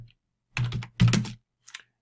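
Keys clatter on a computer keyboard as a chmod command is typed in a few short bursts, two dense clusters and a faint final tap, close and quiet with no talk.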